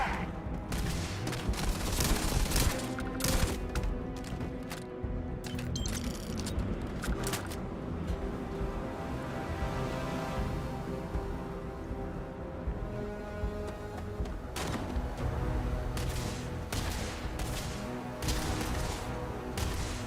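Gunfire in the video game Starfield rattles in dense, continuous bursts and booms, layered with loud game effects and background sound throughout.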